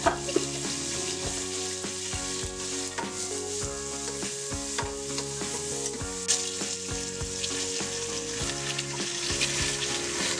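Onion and poppy seed paste fries in a little oil for beef tehari, a steady close sizzle with scattered stirring scrapes and clinks throughout, no voices.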